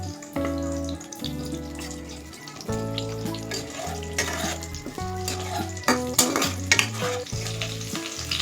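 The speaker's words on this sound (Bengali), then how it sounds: "এবার পটল ভাজা তেলের মধ্যে আলুগুলো ভেজে নেব।" Potatoes being fried in oil left over from frying pointed gourd, with a close, lively sizzle and repeated scraping and stirring strokes of a spatula against the pan, under faint background music.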